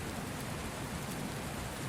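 Steady rain falls outside a castle library window, an even, soft, continuous patter with no breaks.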